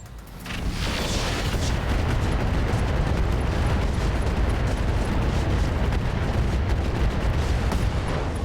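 A mech weapon volley in the battle game RogueTech ends in a loud, sustained explosive roar that rumbles on for several seconds without letting up.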